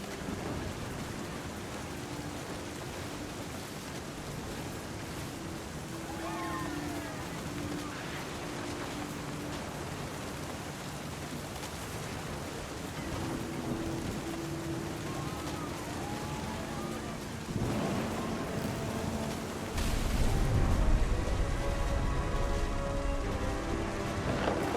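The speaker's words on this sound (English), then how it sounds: "thunder sounded much too close and full of angry power" A thunderstorm with steady heavy rain in What Remains of Edith Finch hisses throughout, with thunder rumbling and a loud low crack late on. A voice talks faintly underneath.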